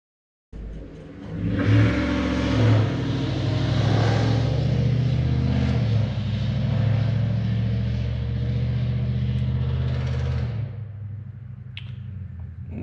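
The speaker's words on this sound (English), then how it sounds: "This is not a race car, just a pickup" A large engine revs hard and holds a loud, rumbling roar for about ten seconds before dropping back to a low idle.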